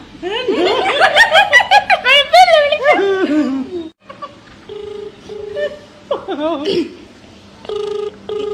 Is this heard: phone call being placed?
yes